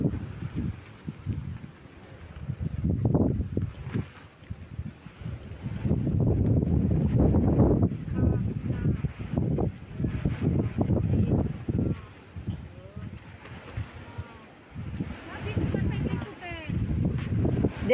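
Wind blowing on a mountain during a group hike, gusting and buffeting the microphone in rising and falling waves, loud and close, while people talk over it.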